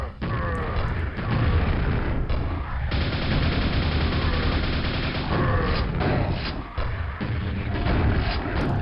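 Grenade explosions in a Quake co-op fight come as a dense, loud burst of booms and blasts mixed with rapid gunfire, continuous and chaotic across the whole span.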